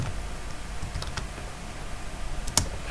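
A handful of keystrokes on a computer keyboard as a plugin name is typed, scattered light clicks followed by one sharper tap near the end, close over a low background hum.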